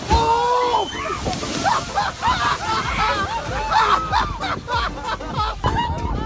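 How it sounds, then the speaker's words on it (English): A whale leaps clear of the sea and crashes down beside a tour boat, throwing up loud, close sloshing splashes of water, with excited crowd chatter and shouts from passengers mixed throughout. "An incredibly lucky moment for a tour boat was when the whale made a giant leap"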